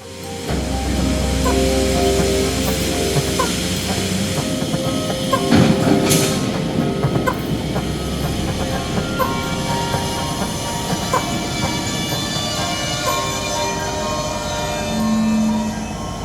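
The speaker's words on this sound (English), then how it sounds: "once again this train started pulling forward towards us" A train pulls forward along the tracks, a steady rumbling roll with hissing and faint metallic squeals, continuous and fairly close, with no voices.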